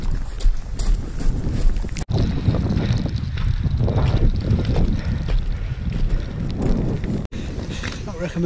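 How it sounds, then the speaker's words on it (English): Steady wind buffeting a microphone on an exposed, soaking-wet mountain scramble ridge at Sharp Edge, a loud continuous rumble and gusting roar throughout with a couple of abrupt dropouts. "Not recommending the wind, the wind's fair."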